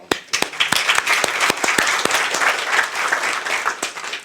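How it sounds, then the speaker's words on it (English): Audience applause at a formal gathering on internal security, dense sustained clapping from many hands filling the room, close and fairly loud with no speech over it. "Let's have a round of"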